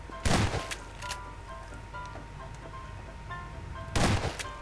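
Gunfire in the video game Garry's Mod Prop Hunt, two loud sharp bursts a few seconds apart over a faint background hum and clicks.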